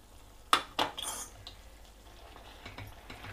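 A spoon stirs tomato pachadi with jaggery in a pot, two sharp metallic clinks at the start followed by softer scraping and stirring, close up and fairly quiet.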